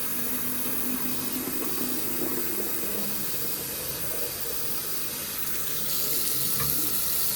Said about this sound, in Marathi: त्यात पहिलं पाणी भरून घेऊ.